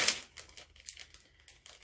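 Crinkly plastic of a ramen packet being torn and pulled at, a string of short sharp crackling rips and rustles close to the mic, with no talking.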